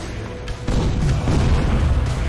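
Gunfire in the video game Them and Us: a dull booming shot sounds partway through, followed by a dense, rumbling, continuous low-pitched wash of game combat noise with no clear separate shots.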